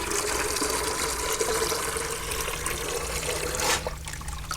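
Water runs steadily from a hose or tap into a watering can already holding fertilizer, a continuous close trickling rush that holds level for several seconds and then thins slightly near the end.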